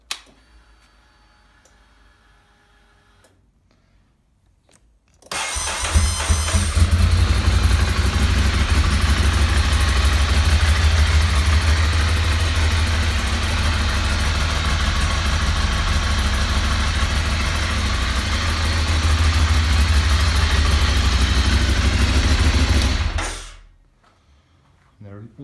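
A motorcycle, a California import, is started after a few quiet seconds and then settles into a loud, steady idle that runs close by for about eighteen seconds before being cut off.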